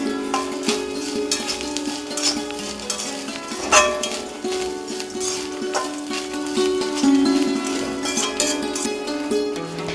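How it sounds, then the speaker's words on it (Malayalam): A spoon clinks and scrapes in a pan as masala with curry leaves is stirred and roasted over a low flame until golden, a run of irregular metallic taps and light sizzling with no voices. "ചെറു തീയിലിട്ട് ഇളക്കണം."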